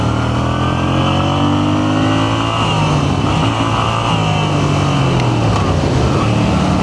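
A 2025 Moto Guzzi V7 Sport motorcycle engine runs loud and steady while riding, its drone shifting pitch midway as it changes speed, with wind rush throughout and no clear talk.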